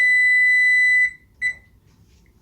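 An oven's control panel gives a long loud electronic beep and then a shorter second beep while its temperature and timer are set, with near silence afterward.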